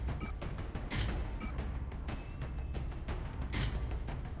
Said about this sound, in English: The alloy cannon.